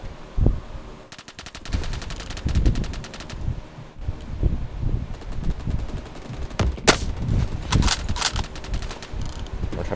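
Rapid automatic gunfire in the video game Phantom Forces, shooting through a wall, with loud bursts of close shots and a few sharp cracks over roughly ten seconds, with no talking.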